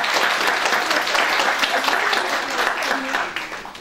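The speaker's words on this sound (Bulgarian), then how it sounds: "Моля се вашите аплодисменти." Audience applause at a school presentation event, steady dense clapping filling the room throughout, loud and continuous.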